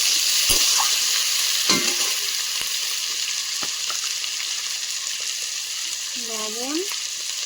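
Crabs sizzle steadily in a hot pan with chopped tomato and slit green chillies, a loud continuous frying hiss broken by a few sharp stirring clicks and a brief metallic scrape near the end.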